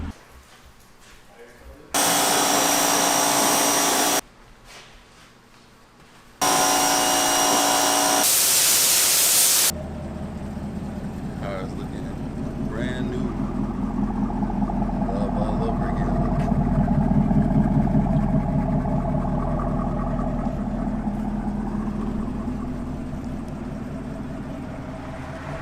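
A Camaro goes through a car wash: loud bursts of high-pressure spray come in hard-edged blocks, then give way to a steady, swelling rumble of wash machinery and water that fades slowly.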